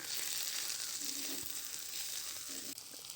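Okra pieces coated with salt and chili powder fry in a pan, a steady, close, dense sizzle throughout, with a couple of soft stirring scrapes along the way.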